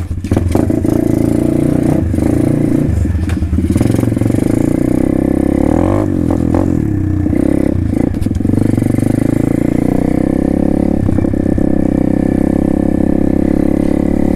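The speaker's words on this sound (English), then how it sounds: "We're on the pit bike today, y'all. The little Amazon pit bike." A small Amazon pit bike engine runs loud and close, a buzzy continuous drone that rises and falls as the throttle is blipped, with some clattering mixed in.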